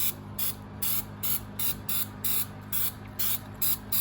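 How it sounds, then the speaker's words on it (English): Jasco paint remover is sprayed from an aerosol can onto Yamaha Raptor 660R wheels in a workshop, heard as a regular series of about ten short, loud hissing bursts over a steady low hum of a running exhaust fan. "spray it on here."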